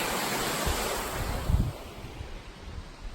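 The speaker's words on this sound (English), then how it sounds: "There's Jenkins Creek." Steady rushing water from Jenkins Creek near the Blue Ridge Parkway fills the scene, a constant broad wash with a few soft bumps and no voices.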